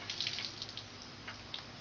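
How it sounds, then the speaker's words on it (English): Water trickles and sprays from a leaking outdoor hose bib spigot that is turned fully off, a faint continuous hiss with soft splashy bursts and no talking. "This hose faucet or hose bib spigot, water spigot is leaking."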